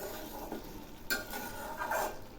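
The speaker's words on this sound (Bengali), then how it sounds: "আবার একটু নেড়ে দিচ্ছি।" A spoon stirs chana ghugni with chopped coriander leaves in a pan, steady scraping strokes over a soft background sizzle, with no talking.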